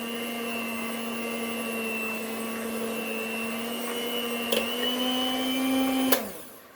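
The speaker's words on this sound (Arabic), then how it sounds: "هلا بدي بلش اخفق فيهم." A handheld electric mixer whisks a mixture in a steady, close, continuous whine with a constant pitch, rising slightly near the end before it switches off abruptly.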